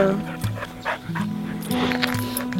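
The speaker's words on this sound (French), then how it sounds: "Un super chien." Gary, a shelter dog, barks in short bursts between whimpers and yips, close and fairly loud, with some panting in between.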